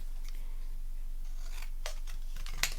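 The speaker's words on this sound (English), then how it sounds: "what I'm going to do is actually trim this down a little bit" A few quick, crisp scissor snips close by and faint, trimming down a paper border for a handmade page.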